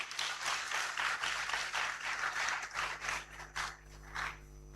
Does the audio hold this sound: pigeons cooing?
no